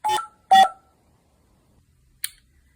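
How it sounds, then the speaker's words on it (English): A phone redials a number on a cold call, two short touch-tone beeps in quick succession, then silence and a faint brief chirp, heard close and clean. "Always double dial when they don't answer."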